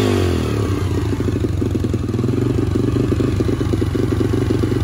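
A Yamaha TTR-125 motorcycle engine revs steadily up close, a loud, continuous rough drone with mechanical clatter pulsing through it and no voices.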